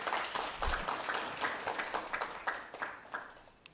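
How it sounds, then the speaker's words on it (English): An audience at a university research and innovation week event applauds in a faint, distant round of clapping with an uneven rhythm that gradually tapers off. "Let's give them a round of applause"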